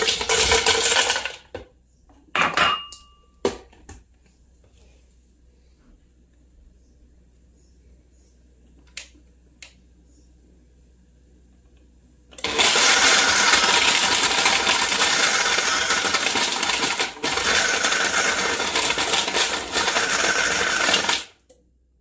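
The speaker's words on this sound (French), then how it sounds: "allons voir immédiatement lorsque j'ai fait mon essai pour la glace concassée et aussi écouter le son" A Wolf Gourmet 1500 W countertop blender crushes ice in a loud, dense roar that runs steadily for about nine seconds and then stops abruptly, after a few brief clunks and a stretch of near silence.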